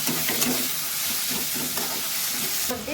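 Chilli, cumin and coriander powder sautéing in a pan for a Bengali duck egg curry, a loud continuous sizzle with quick stirring scrapes close by, brightening at the end.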